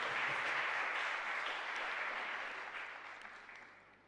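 Applause rings out during Mass in a chapel, a steady wash of many hands clapping that slowly fades out over a few seconds, somewhat distant.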